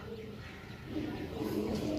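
Teddy-breed pigeons kept for sale coo softly at close range, a low, rolling murmur that swells slightly over two seconds against a faint background hum.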